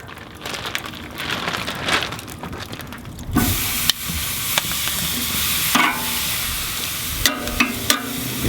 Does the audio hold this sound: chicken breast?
yes